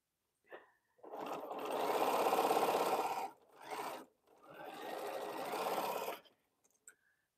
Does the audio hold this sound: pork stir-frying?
no